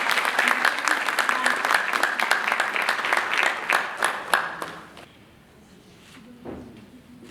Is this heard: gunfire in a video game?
no